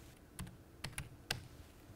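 Quiet, close typing on a computer keyboard while an IP address is entered: a few separate, crisp keystrokes spread over two seconds.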